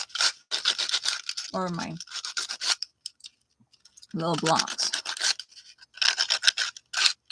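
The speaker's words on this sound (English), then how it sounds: "So I'm going to continue sanding my floor" Small craft floor blocks sanded by hand, a close, rapid series of scratchy rasping strokes in bursts, broken by two short stretches of someone talking.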